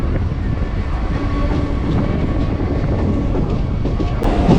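Steady rumble of a Chennai suburban train starting from Tambaram Sanatorium station, continuous and fairly loud throughout, with faint clacking and rattling over the low roar.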